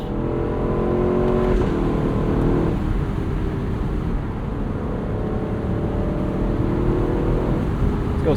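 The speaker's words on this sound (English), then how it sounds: "that iconic Lexus rev limiter still lives on in the LC for 25" The V8 of a 2025 Lexus LC 500 Convertible revs hard and holds near the rev limiter, a loud, steady, buzzing engine note with slight pitch dips and rises throughout.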